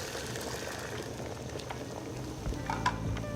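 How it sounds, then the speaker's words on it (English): Tapioca pearls go into a pot of boiling water, a soft continuous bubbling and churning with a slight louder splash toward the end, no voices. "once our water's boiling, we're going to pour the tapioca pearls in"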